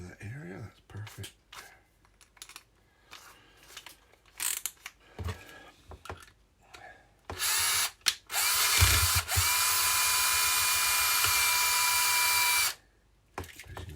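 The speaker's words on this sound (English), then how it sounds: "I'm going to go to a bigger drill for this one" Power drill grinding the top off a rivet on a collectible, starting in short bursts after scattered handling noise, then one loud steady whining run of several seconds before stopping.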